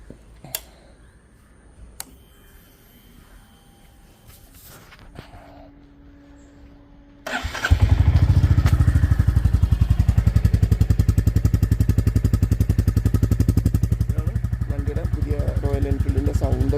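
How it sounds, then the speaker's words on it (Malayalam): A Royal Enfield Standard 350 motorcycle with 137 km on it starts after a few quiet clicks, then idles loud and close with a steady, rapid single-cylinder thump to the end. "റോയൽ എൻഫീൽഡിൻ്റെ സൗണ്ട് എന്ന് പറയുന്നത്."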